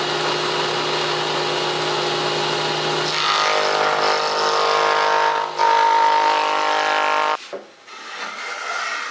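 Router cutting a bead profile along wooden boards for a DIY barn door, a loud sustained high whine with wood-chewing rasp, pitch shifting as the cut progresses, then winding down at the end.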